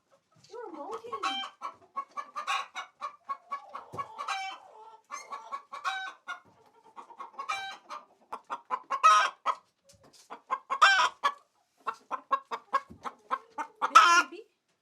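Chickens on an organic poultry farm during a snowstorm cluck and murmur in close, irregular bursts, with sharper squawks rising in the later part; no one speaks.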